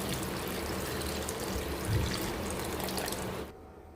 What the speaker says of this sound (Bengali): এবারে আমি এর মধ্যে দিয়ে দেব জল